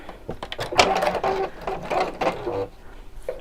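Sewing machine stitching fabric in short bursts, a close mechanical whirring chatter that starts, pauses and restarts several times over a few seconds.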